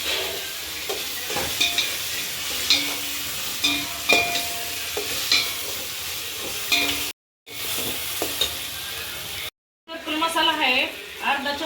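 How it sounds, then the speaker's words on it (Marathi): A ground ginger, garlic, coriander and coconut paste being stirred in a hot pan for chicken biryani, with repeated scraping strokes over a soft sizzle and a couple of brief gaps. "हे असं छान मिक्स करून घेऊ"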